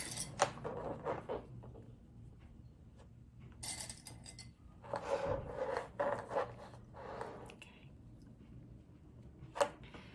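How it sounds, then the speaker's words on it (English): Fabric clips are snapped onto a zipper and cloth for a small purse, making a scattered series of quiet, close clicks, scrapes and soft rustles, with one sharper snap near the end. "I'm going to clip the zipper onto the fabric"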